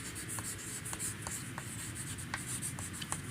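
Chalk or marker writes equations on a classroom board, a close run of quick scratching strokes with short pauses between them and no talking.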